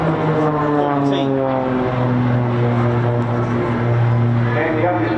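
Propeller aerobatic display plane diving at high speed at the Bournemouth Air Festival, a loud continuous engine drone with clearly shifting pitch, steady and close throughout.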